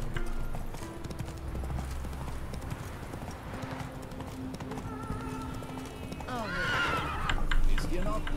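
Horse in The Witcher 3 on the isle of Skellige, galloping with steady rapid hoofbeats and letting out a whinny near the end, close and moderately loud while someone talks over it.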